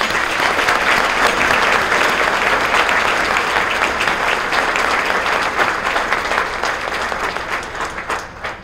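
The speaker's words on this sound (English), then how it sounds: "Please join me in a round of applause for all their service" A room of attendees at the Metro South Chamber of Commerce annual meeting applauds board members for their service, a loud, dense, sustained round of clapping that thins slightly toward the end.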